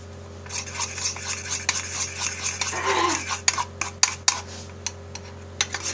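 A utensil stirs a bowl of homemade butter slime, giving soft squelching scrapes followed by a run of sharper clinks and taps toward the end. The sounds are close and there is no talk.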